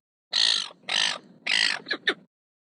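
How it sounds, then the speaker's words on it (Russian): A seagull gives three loud, harsh squawking calls in quick succession, then two shorter clipped cries, close and alone against silence. "Чайка."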